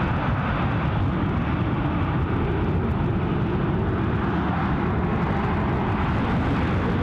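Loganair de Havilland Twin Otter turboprop at Glasgow International Airport, a loud, steady, close engine roar dense in low rumble, unbroken and without voices.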